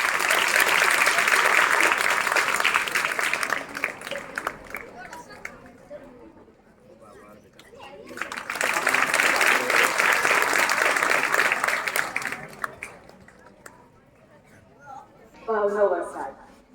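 An audience claps loudly in two sustained bursts to welcome a student, Priyanshiben, at a farewell ceremony for a retiring teacher. The rounds of applause are separated by a quieter gap, and a short voiced sound is heard near the end.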